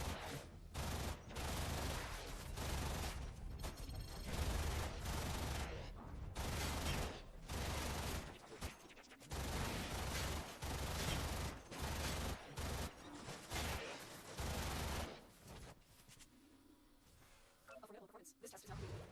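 Rapid automatic weapon fire in the video game Warframe, loud near bursts of a primary weapon repeating in long volleys with brief gaps, game effects mixed in and the sound thinning out toward the end.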